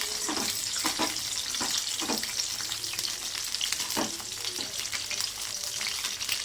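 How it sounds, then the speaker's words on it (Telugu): Food fries in a kadai pan, a continuous crackling sizzle with several sharp metallic scrapes of a spoon against the pan spaced through it, close and fairly quiet. "ఇంకా వీటిని అయితే ఫ్రై చేసుకుందాం"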